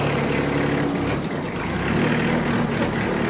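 2013 Kubota L3800D tractor diesel engine running, a loud steady rumble heard up close with some clattering and fluctuation.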